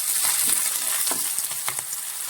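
Garlic and green chillies sauté in hot oil in a pan for a prawn roast, giving a bright continuous sizzle broken by a few scraping stirs, close and fairly loud with no talk.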